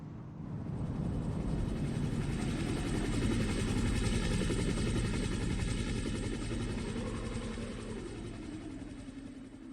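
A helicopter in the Resident Evil video game rumbles with a steady low-pitched rotor drone, loud and continuous, then slowly fading as it flies away.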